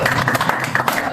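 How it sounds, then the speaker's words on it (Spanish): A congregation at a church service bursts into dense, close applause, a brief burst of many hands clapping at once. "Un aplauso."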